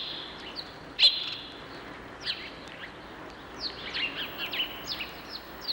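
Wild birds chirp and tweet among 40- to 50-year-old large trees in a small wooded habitat in urban Daejeon, with scattered high, short calls, one sharper call nearby and others fainter and more distant, over a quiet background.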